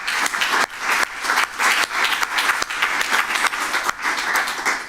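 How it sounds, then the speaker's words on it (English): A conference audience applauds with a full, steady burst of many clapping hands that carries on for several seconds with slight swells and dips. "We have a round of applause for that"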